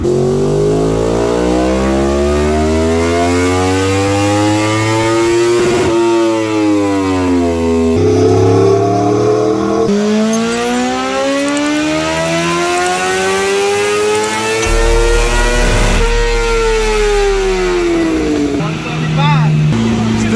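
Yamaha R1 sport motorcycle engine revving hard in repeated rising and falling sweeps, loud and close, with people talking over it.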